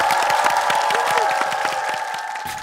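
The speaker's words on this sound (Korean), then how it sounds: "여러분 큰 박수로 맞이해주세요." Applause from a TV studio audience during a Korean talk show, steady dense clapping with some cheering that holds for a few seconds and eases slightly at the end, with no speech over it.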